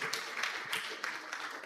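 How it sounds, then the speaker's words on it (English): Conference audience applause, a steady patter of many hands clapping at moderate distance, with a voice faintly present beneath it. "Don't clap too much because my answer will shock you."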